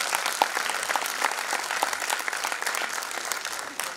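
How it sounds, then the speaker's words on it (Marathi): An audience at an award ceremony breaks into sustained applause, a dense, even wash of clapping from many hands, fairly close and steady for the whole stretch with no talking over it. "टाळ्या होऊन जाऊ एकदा."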